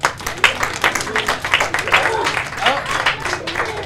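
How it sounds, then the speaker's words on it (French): A crowd at an Eid al-Fitr community gathering in Montréal applauds for a friend, lively, uneven clapping with many hands close by, while voices carry on talking over it. "On applaudit mon ami Mehdi très fort."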